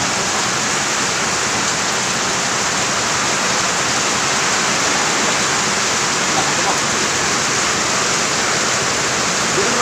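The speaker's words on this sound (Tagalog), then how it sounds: "medyo inaabot ang ulan" Heavy rain pours steadily during a motorbike delivery ride, a dense continuous wash of noise that stays loud and even throughout with no clear breaks.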